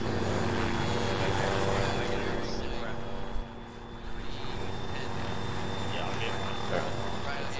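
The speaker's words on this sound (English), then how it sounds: "They've just landed the helo" A helicopter sits on the ground in Arma 3, its engine and rotor a steady loud droning whine throughout, briefly dipping midway, with voices talking over it.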